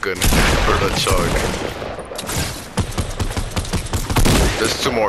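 Gunfire in the video game Fortnite, loud rapid volleys of shots and bursts crowding the scene, with excited voices talking over the shooting.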